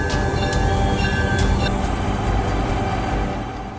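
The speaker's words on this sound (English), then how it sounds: "the wheels rise and dip slightly, then shift side to side, and the whole train wobbles like it's on a damaged road" A train rolling over damaged track, wheels rising, dipping and shifting side to side as the carriages wobble; a steady loud rumble and clatter fills the whole stretch, easing slightly toward the end.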